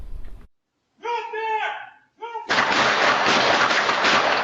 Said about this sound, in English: This barrage of bullets captured on home surveillance video shows the intensity of gunfire between Chicago police and 22-year-old suspect Sidi Mohamed Abdallahi